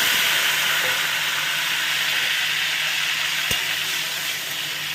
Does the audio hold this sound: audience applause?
no